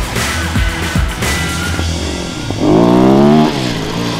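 Sherco-TVS 450 Rally, a 450cc rally motorcycle built for the 2019 Dakar Rally, its engine revving close by with a few sharp blips before a louder, steady rising rev.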